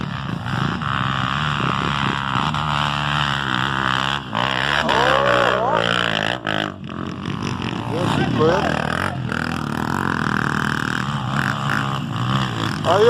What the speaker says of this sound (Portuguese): tá começando a chegar o resto das motos